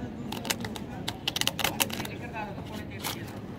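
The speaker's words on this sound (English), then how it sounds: "do you want me to shuffle it more?" Playing cards cut and shuffled by hand during a card trick, a run of quick crisp riffling flicks and snaps, close and moderately loud, with low voices murmuring underneath.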